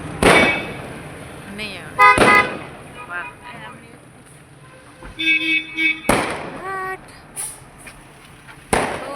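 Firecrackers burst during a Makar Sankranti celebration in a village, with sharp loud bangs near 0.3, 2.2, 6.2 and 8.8 seconds and horn-like tones between them, while people talk in the background.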